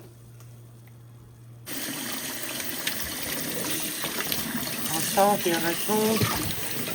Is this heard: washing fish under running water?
yes